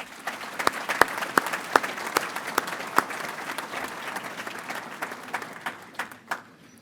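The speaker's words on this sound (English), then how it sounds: "Let's give all of those students a big round of applause." A large crowd at a college commencement ceremony applauds its graduating students with a sustained burst of clapping, sharp individual claps popping out above the mass before it tapers off.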